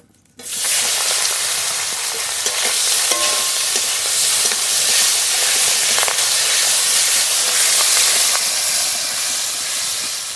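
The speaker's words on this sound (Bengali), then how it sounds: "কেটে দিয়ে রাখা শিঙি মাছ দিয়ে দেবো" Cut singi fish dropped into very hot mustard oil in a karahi, erupting into a loud, dense, continuous hissing sizzle that holds steady close by.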